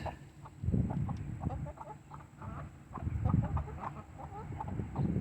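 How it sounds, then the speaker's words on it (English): Silkie hens cluck softly and continuously in a backyard, the calls faint and close, rising and falling in small overlapping bursts. "I got my silky hens out in my yard, separated from the roosters."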